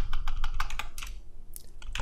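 Rapid typing of HTML tags on a computer keyboard, close and steady clicking keystrokes in quick bursts with a brief pause midway.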